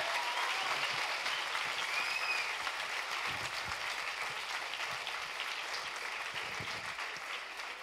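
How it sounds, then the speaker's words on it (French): An audience applauds a finalist at an eloquence contest final at a business school, with steady, dense clapping from a full room that holds evenly and tapers slightly at the end. "On l'applaudit."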